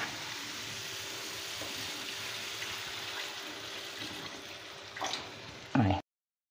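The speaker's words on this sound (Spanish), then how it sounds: "Le vamos a echar un poquito de agua." A little water goes into a pan of chicken stew with paprika, a continuous rushing hiss for about five seconds. It ends in a louder splash and clatter just before the sound cuts off.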